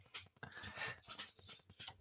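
Dog panting and whimpering, rapid uneven breaths with thin whines, faint and close in a quiet room.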